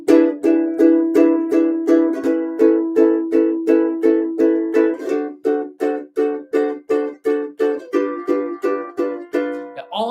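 A ukulele strums the bridge of a swing song in a brisk, even rhythm, about two dozen bright, chopped chord strokes played close and loud with short muted gaps between them.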